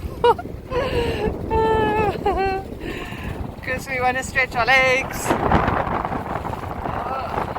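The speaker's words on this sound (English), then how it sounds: "it's very windy" Gusty wind rumbles and buffets the microphone while a person speaks aboard an anchored sailboat, with a low roar beneath the voice.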